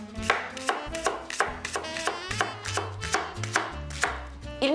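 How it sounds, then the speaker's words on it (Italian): A knife chops leeks into thin rounds on a cutting board, giving a steady series of about a dozen crisp, close knocks in an even rhythm. "Eliminiamo la base e li tagliamo a rondelline sottili."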